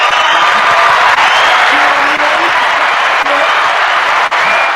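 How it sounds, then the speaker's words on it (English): Sustained applause and cheering from a studio audience for the host's mother on a talk show, a loud, dense wash of clapping that carries on evenly throughout. "Don't cut off the applause for mom."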